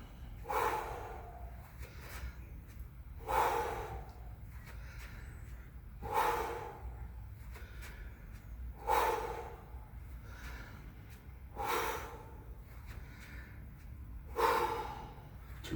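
Heavy, forceful breathing of a person resting between workout exercises, with loud gasping inhales and snorting exhales recurring roughly every three seconds, close and without other sounds.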